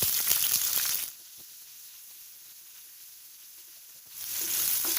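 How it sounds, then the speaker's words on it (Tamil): Onions dropped into hot oil for mushroom masala, with bright sizzling bursts at the start and end separated by a few seconds of near-quiet. "ஆயில் வந்து சூடாயிடுச்சு. இப்போ இங்கே எடுத்து வச்சுருக்க பொருள் எல்லாத்தையும் இதில் போட்டுடலாம். அடுத்து வெங்காயம் போட்டுடலாம்."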